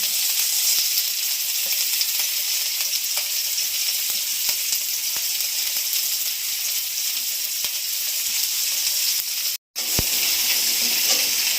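Chopped onion sizzling in a salted pan, a steady bright hiss with occasional faint ticks and a brief dropout near the end.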